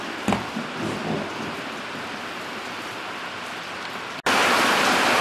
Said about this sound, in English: Mother Nature decided to open up and rain on us, so hope you guys can hear me over the noise of the rain on the metal roof.